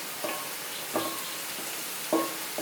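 Chicken vindaloo with its spice paste sizzling in a pan, with a few light stirring scrapes and soft taps from a spoon over a steady hiss.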